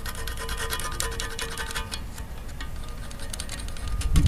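Metal tabs being cut and smoothed off an Allison 1000 transmission bellhousing, producing a steady, close rasping grind that runs continuously without talk.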